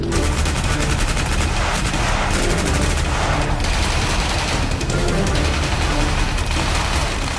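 Dense, continuous gunfire from a Ranger school night ambush drill on an approaching vehicle, with rapid overlapping bursts of rifle and machine-gun fire filling the scene at close range and shouted commands briefly audible.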